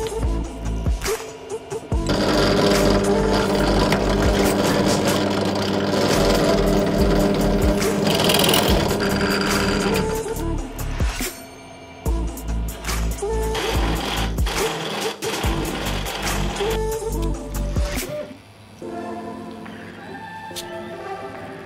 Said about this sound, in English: And then we can remove the cover and drill those holes.